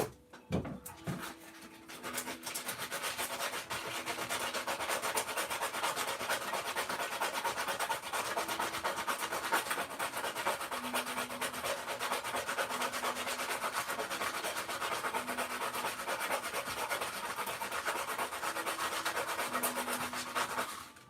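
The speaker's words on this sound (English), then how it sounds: "Just using my knife here, taking off some of those fuzzy bits." Steady scraping and rubbing as a blade shaves at plastic, continuous and close, with faint intermittent tones in the background.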